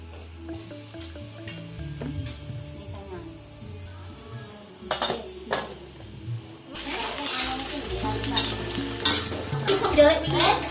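Green chilies sizzle and fry in a wok while being stirred, with scraping utensil strokes and clinks over a steady hiss that grows louder and busier in the second half.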